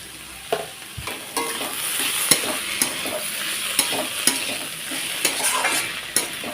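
Bottle gourd frying in a pan with turmeric powder, sizzling steadily while a utensil scrapes and stirs in repeated sharp strokes, close and moderately loud, with no talking.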